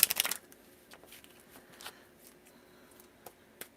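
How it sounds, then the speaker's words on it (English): A deck of tarot-style cards is riffle-shuffled in a quick burst of crisp flutters at the start, followed by quiet card handling and occasional soft taps. "I almost don't want to shuffle James' cards because they were so nice for everyone to get"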